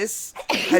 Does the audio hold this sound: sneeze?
yes